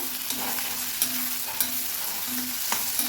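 Onions and dry fish curry ingredients sauté in a pan, a constant sizzle broken by repeated scraping spatula strokes and soft knocks at an uneven rhythm, close and with no voices.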